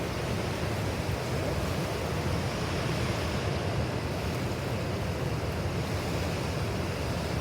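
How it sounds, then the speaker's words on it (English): Water rushes out of a pipe into the Ord River in the Kimberley outback, a loud, steady roaring wash that continues without break and carries some wind noise. "The water coming out of that pipe was fair cranking."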